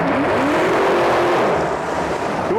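A 1985 Johnson 115hp outboard boat motor with a 20-inch shaft and remote controls revs loud and close, its pitch sweeping up and down as the throttle opens and eases off, with another rise at the end.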